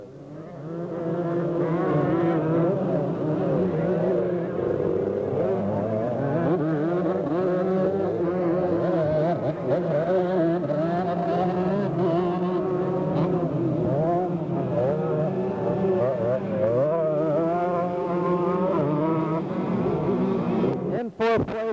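A pack of 125cc motocross motorcycles races at the 1980 USGP at Mid-Ohio, their two-stroke engines buzzing and wailing continuously at high revs, pitch rising and falling through gear changes, with a commentator speaking over the din.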